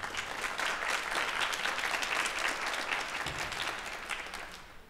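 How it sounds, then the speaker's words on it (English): Students and an audience at a middle school jazz ensemble concert clap for their parents, a dense, sustained round of applause from a crowd that tapers off slightly toward the end. "We're gonna clap for our parents, for all the private lessons, for all the instruments and all the practice you had to hear at home."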